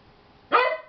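A single sharp dog bark, loud and close, bursting out after a short quiet stretch and fading quickly, with no one talking over it.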